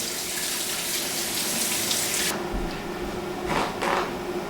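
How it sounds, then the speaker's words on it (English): Fruit, including raspberries, being washed under a running tap in a kitchen sink, a steady close rush of water that cuts off partway, followed by a few soft splashes and handling sounds. "So what you want to do with any fruit is just give it a good wash."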